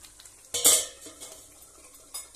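A metal lid is set onto a pan of paneer cooking in oil: one sharp clank and rattle near the start, then a faint low sizzle and a lighter tap near the end.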